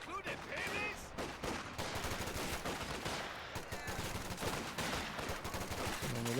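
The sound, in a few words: Stuart tank gunfire in the video game Company of Heroes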